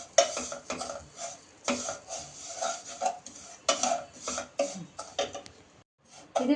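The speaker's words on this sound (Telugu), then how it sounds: "ఇలా బటర్ వేసుకుని కునాఫాని ఫ్రై చేసుకోవాలి." A spoon stirs kunafa frying in butter in a pan, making repeated scraping and clinking strokes in an uneven rhythm at close range, with a faint background sizzle.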